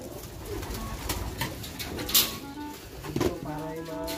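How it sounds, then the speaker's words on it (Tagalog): Pigeons coo in a loft holding about 400 birds, with soft repeated low cooing and wing flutters close by, along with a few sharp knocks and a brief burst of movement. "Siguro mga... 400 kalapati pa nandito, hindi mauubos yan."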